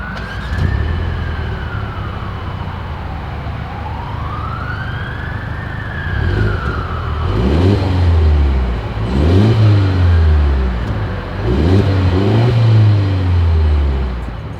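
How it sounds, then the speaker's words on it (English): A 2023 Mercedes-Benz GLE 350 with dual exhaust, idling at first while a siren wails in the distance, then several loud revs that swell and fall in repeated bursts, close by. "As always, here is that exhaust clip."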